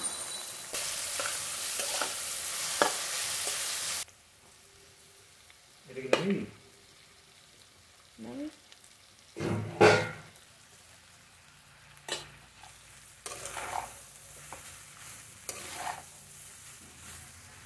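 Food fries in a pan over a low gas flame while being stirred for a Sunday lunch dish, with intermittent sizzling, scraping strokes of the spoon and occasional speech in between.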